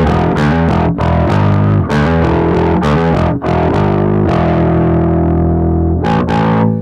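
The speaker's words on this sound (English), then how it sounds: "I'm guessing a lot of people out there watching this video don't want to hear a Jack Casady bass absolute full throttle" Epiphone Jack Casady semi-hollow bass guitar played at full volume through an amp, thick, driven and distorted with dense sustained notes and occasional breaks, loud and continuous with no talking.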